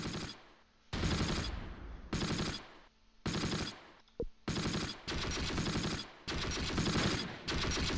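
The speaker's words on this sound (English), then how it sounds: "Oh, I think they just returned fire" Rapid bursts of machine-gun and rifle fire from the Close Combat wargame Panthers in the Fog, a 1944 Allied battle, come in loud repeated volleys separated by short gaps, with one sharp single crack in between.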